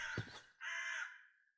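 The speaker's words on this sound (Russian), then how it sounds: "Вороны каркают, птички поют" Crows caw in a Minecraft game, two harsh calls in quick succession, the first brief and rough, the second longer and drawn out, moderately close against otherwise quiet surroundings.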